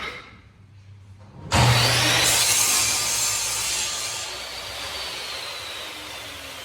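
A handsaw cuts a small piece off a wooden board for a corner workbench, starting abruptly after a quiet moment with a loud, continuous rasping stroke that fades slightly as it goes on, close and alone.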